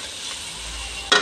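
Garlic and ginger sizzling in a pan while being stirred, a continuous close frying hiss ending in a brief louder scrape of the spoon, with no talk.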